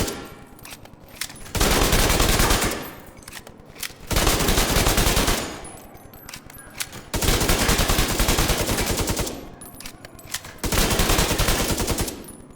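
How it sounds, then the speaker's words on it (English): M1928 Tommy gun firing body shots in Division 2, heard as loud sustained automatic bursts of several seconds each, separated by short lulls, with no talk. "Tommy gun, body shots, 3rd round."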